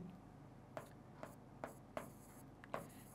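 Pen or pencil scratching on paper during a Hindi geometry lesson on circles, heard as a few short, separate strokes close by over a low steady background hum.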